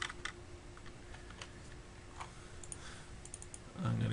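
Keystrokes on a computer keyboard come in light, irregular bursts while a name and price are entered, quiet and close, ending with a low rumble.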